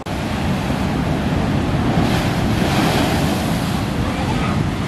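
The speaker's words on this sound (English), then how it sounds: "There's just these rogue waves, as you can see." Loud, continuous roar of rough ocean waves crashing on a windy beach, with heavy wind rumbling against the microphone throughout and no clear breaks.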